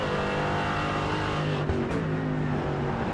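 A Mercedes race car with a 4.6-litre bi-turbo V8 in the iRacing video game, droning steadily at high revs with a brief dip near the middle as it shifts or lifts.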